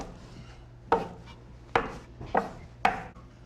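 A knife or bench scraper cuts gnocchi dough into pieces on a floured bench with four distinct, dull chops against the surface. The chops are spaced unevenly over a few seconds, with quiet room tone between them.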